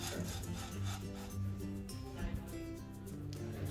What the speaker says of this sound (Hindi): इसी तरीके से इसे लगातार चलाते हुए भूनकर तैयार करेंगे।